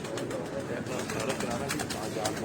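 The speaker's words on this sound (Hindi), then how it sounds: "ये गोल्डन कबूतर है" Soft cooing of a golden pigeon sits under someone talking, low and rounded, amid a steady background hum.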